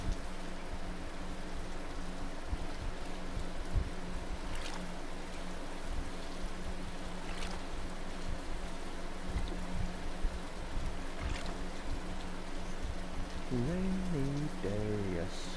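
Steady rain patter in Stardew Valley, a continuous soft hiss with occasional louder droplet taps, joined near the end by a short melodic tune or hummed notes over a faint low hum.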